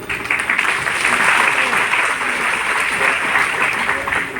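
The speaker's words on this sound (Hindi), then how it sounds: "आपने थोड़ी एडवांस में तालियां बजा दी है" An audience applauds at a Hindi poetry recital: a dense, steady burst of clapping that runs throughout, close and loud, with no clear talk over it.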